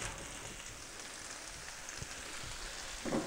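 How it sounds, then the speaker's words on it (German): A soft, steady sizzle of cucumbers frying in butter in a pan, a quiet hissing crackle with a brief louder sputter near the end. "Dann geben wir die Gurken dazu."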